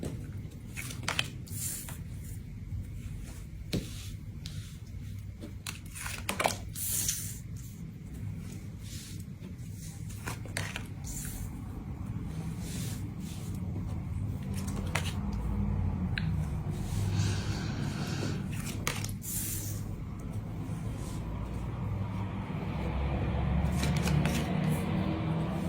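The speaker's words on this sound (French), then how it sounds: "je vais d'abord poser toutes les cartes" Tarot cards being laid out one by one on a table during a reading, with repeated crisp snaps and soft slides of card stock close up, set against a low background murmur.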